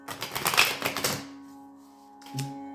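Tarot cards being shuffled, a quick flurry of crisp, close riffling clicks lasting about a second, then quiet with a faint hum and a small soft thud at the end, no talking.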